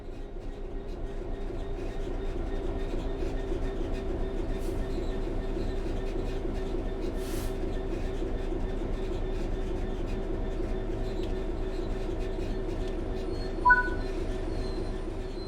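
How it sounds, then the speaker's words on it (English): A train in Train Sim World 3 coasts on level ground at an even pace with a steady low rumble and faint rail noise, a brief squeal near the end; no talking. "The train will then coast on level ground"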